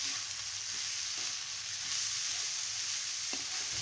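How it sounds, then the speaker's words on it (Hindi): Beetroot with soaked moong dal stirred in a pan over low heat gives a soft, steady sizzling hiss, faint and even throughout with a light scrape near the end. "आंच को धीमी रखेंगे और चुकंदर डालेंगे, अच्छे से मिला लेंगे।"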